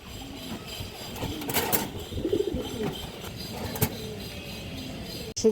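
Pigeons in a bird seller's collection coo in low repeated rounded calls across the whole stretch, with faint background noise and a short sharp knock near the end.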